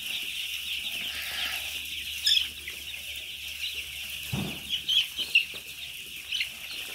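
Chickens and young chicks cluck and peep inside a poultry house, soft high chirps running throughout with a few louder calls and brief rustles, fairly close and without talk.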